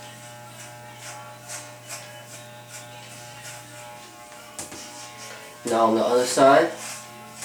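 Electric hair clippers buzz steadily while cutting a fade on someone's own head, the hum swelling louder and rougher near the end as the blades bite into hair, with someone talking over the motor.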